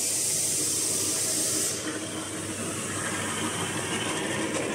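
Automatic positioning 3-ply face mask making machine producing 120-150 pieces per minute, running with a dense, steady hiss and rumble that dips slightly partway through, with no talking.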